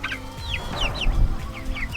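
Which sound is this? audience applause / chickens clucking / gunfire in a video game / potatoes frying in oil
chickens clucking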